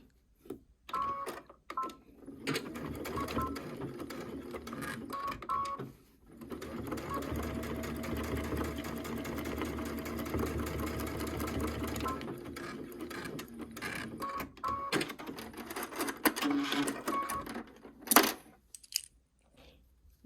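Sewing machine stitching a seam on a fabric pouch, running in several steady bursts separated by short pauses, close and fairly quiet with light mechanical clicks.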